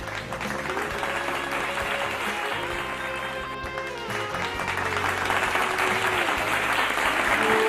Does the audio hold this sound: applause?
yes